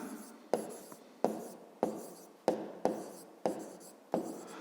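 Wooden pen or pencil strokes on paper during a school math lesson: seven sharp scratchy onsets, each trailing into a brief rasp, in a steady rhythm about every 0.6 seconds, close and fairly quiet with no talking.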